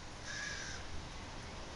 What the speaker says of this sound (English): These little birds come up, and they've been very bold